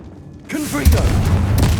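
A Confringo blasting spell from Hogwarts Legacy erupts in a sudden deep boom, followed by a rumbling tail of debris inside decayed ruins; a voice shouts the spell just before the blast.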